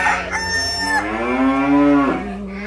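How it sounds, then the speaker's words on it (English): A cow gives a long, loud moo that rises and falls over about two seconds, with a brief higher animal call just before it, heard up close on a farm. "Here's Lillian, the cow, fighting with the sheep again."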